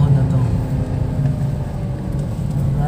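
A Suzuki S-Presso engine droning steadily under load while climbing a hill in Binangonan, Rizal, a low continuous hum with a voice talking over it.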